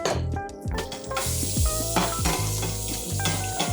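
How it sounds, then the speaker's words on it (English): Onions hitting foaming butter in a hot pan sizzle loudly and continuously, with a scraping stir and light clinks of utensils against the pan. "the butter's nicely foaming up. We're going to add the onions in there now."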